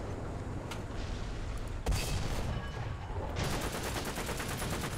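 Tank cannon fire in the War Thunder video game: a loud single boom near the two-second mark, followed by sustained rumbling gunfire and engine noise with a second burst of louder firing later on.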